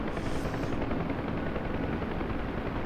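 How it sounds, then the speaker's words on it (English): UH-1 Huey helicopter in the DCS flight simulator, a dense, steady rotor thump and rumbling airframe shake, loud and close throughout with no speech. "Guys, the helicopter's shaking, right?"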